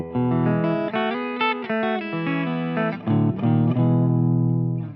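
A Fibenare Basic Jazz bass on its bridge pickup plays a brief clean melodic passage of ringing, sustained notes, loud and close, ending on a long held note.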